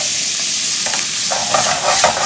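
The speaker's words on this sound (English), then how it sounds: "Give them a little saute" Dried cranberries sauté in a hot pan, a close, steady sizzle with bursts of stirring scrapes and crackles, no voices.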